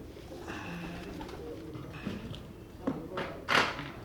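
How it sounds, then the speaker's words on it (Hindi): Teddy pigeons coo softly among a pigeon keeper's flock, low murmuring calls under a noisy background with a few taps and a sharper bird call near the end, while people talk nearby. "ये इनके हैं जी टैडी कबूतर"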